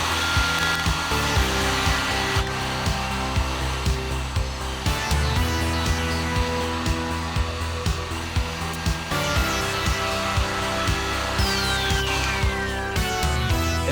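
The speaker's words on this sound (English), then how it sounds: "It's actually time to heat shrink this tubing, one of the most satisfying things in the world." A heat gun blows steadily while shrinking heat-shrink tubing on a Polygon hardtail bike, a continuous loud whooshing drone with tonal hum and slight fluctuations, and no voices.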